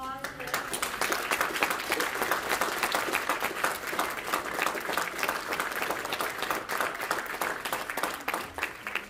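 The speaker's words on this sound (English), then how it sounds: "We couldn't have done it if we can get a round of applause." A crowd at a Christmas celebration gives a steady round of applause with dense clapping throughout, with a voice speaking over it.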